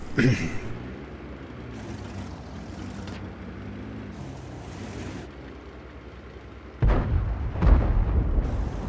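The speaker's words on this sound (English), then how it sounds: "Somebody's firing HE at him." High-explosive tank shells firing and bursting in World of Tanks on Mountain Pass, with heavy booming blasts late on and rumbling engine noise and distant impacts earlier.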